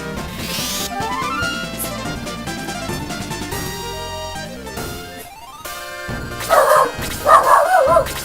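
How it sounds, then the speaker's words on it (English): A dog barks several times in quick, sharp bursts near the end, loud and close over game music playing throughout. "Apologies for the dog barking"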